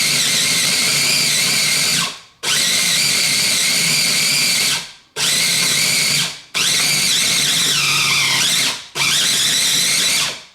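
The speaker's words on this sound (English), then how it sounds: "And on this food processor, I'm going between chop and grind." Electric food processor chopping bread into small pieces for mushroom stuffing, running loud in five pulsed bursts separated by brief stops, with the motor whine shifting as the contents break up.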